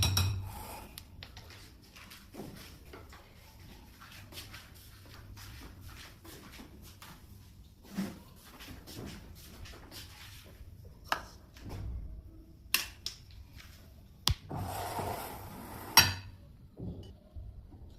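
Eggless sponge cake batter is stirred in a bowl, giving soft, scraping and shuffling sounds with occasional clinks of a utensil against the bowl, close and fairly quiet.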